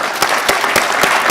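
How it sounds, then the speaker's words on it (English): Dense applause from a conference audience at Co-op Congress 2024, a loud, close, steady patter of many hands clapping at once. "the clap is quite premature"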